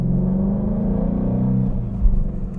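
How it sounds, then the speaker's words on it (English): A 2017 Ford Shelby GT350 driving on a test drive, its engine giving a steady, loud, low droning rumble from inside the car, with a brief swell in revs near the end. "So driving the GT350 first"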